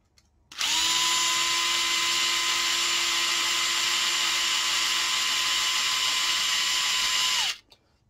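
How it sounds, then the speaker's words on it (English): An electric screwdriver runs steadily for about seven seconds, driving screws while assembling a Titanic model kit, with a constant high whine and buzz that starts and stops abruptly; no talking. "it's much faster to do this with this electric screwdriver"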